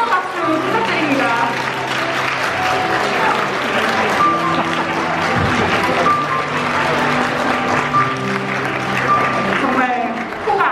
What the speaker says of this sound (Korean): 하객 여러분 뜨거운 박수 부탁드립니다.